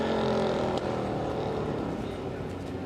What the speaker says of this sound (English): when you see that old Monaro take off the line